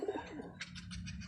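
A pigeon gives a soft, low coo, followed by a few faint scratchy rustles close by.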